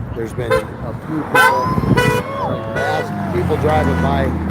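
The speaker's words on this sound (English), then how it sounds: "people driving by like that, honking and support" Passing cars honk short toots in support along a roadside, several bursts spread through the passage over steady traffic noise, with someone talking over them.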